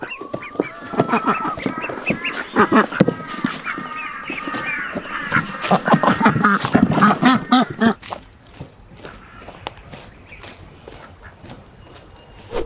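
A flock of ducks being herded up a hill quack and chatter loudly and near, in dense overlapping calls that thin out toward the end, leaving quieter rustling and a few scattered quacks.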